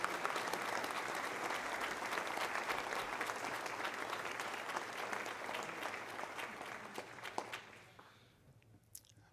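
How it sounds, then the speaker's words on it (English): Sustained audience applause at a Virginia State Police valor awards ceremony, a dense wash of many hands clapping steadily for most of the stretch, then thinning out and fading near the end. "Would you please again give all of our departments a big round of applause this evening?"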